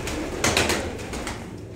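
Iraqi pigeons coo outdoors in Sydney, Australia, a soft warbling bird call with several pulsing notes over steady background noise.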